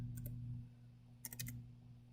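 Quick computer keyboard typing, a couple of light clicks early on and then a short burst of several keystrokes, faint over a steady electrical hum.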